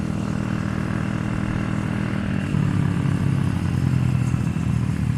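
A group of mini motorbikes passes close by, a loud continuous buzzing engine drone that thickens and grows louder partway through, with no talking.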